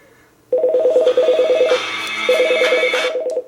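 An incoming phone call rings through an Altec Lansing Baby Boom portable Bluetooth speaker: a loud, close electronic ringtone of rapid repeating warbled pulses in two bursts with a brief pause between.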